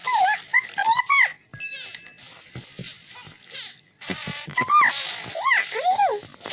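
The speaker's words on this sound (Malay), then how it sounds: "Bahaya betul lah. Ada lebah." A bee, made by a character in a sad drama cartoon, buzzes with a whining, wavering drone that rises and falls in short bursts between pauses, loud and close, with brief voice-like sounds mixed in.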